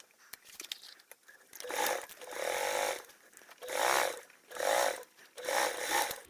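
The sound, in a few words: sewing machine sewing a 3/8 seam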